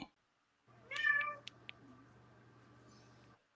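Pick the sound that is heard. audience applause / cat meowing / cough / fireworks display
cat meowing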